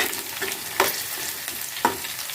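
Slit green chillies fry in oil for an Andhra-style fish curry, making a steady, close sizzle with a couple of sharp scrapes from a stirring spoon.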